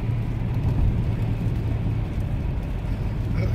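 Continuous engine and road drone from inside a car on a cold-weather test drive after its DISA valve was replaced, heard as a steady, fairly loud whir with no speech.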